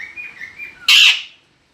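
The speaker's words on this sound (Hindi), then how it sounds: "मैना" A myna bird gives a single call: a soft, wavering whistle followed by a loud, harsh squawk that fades quickly, close and heard alone.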